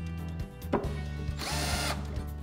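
A Switchdriver 20V cordless drill/driver whirs steadily at close range, its motor pitch shifting briefly as it revs harder for about a second before settling back, with no talk over it.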